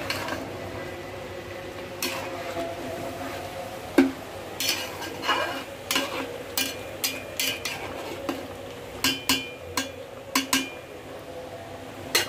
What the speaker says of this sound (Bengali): এখন আমি এটাকে ভালোভাবে নেড়ে চেড়ে দিব।